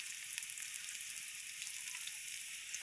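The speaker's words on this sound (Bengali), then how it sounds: "এগুলো আমি এবার একটু ভেজে নেব।" Torn dried chillies fry in a pan, giving a quiet, continuous hissing sizzle with small crackles and no talk.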